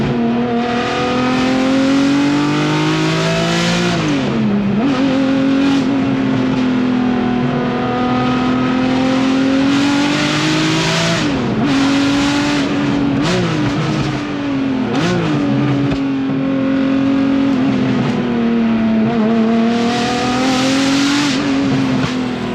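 Straight-piped Ferrari F50 V12 engine revving hard and loud, a rich continuous wail rising and falling through repeated throttle blips and gear changes, heard alone without voices.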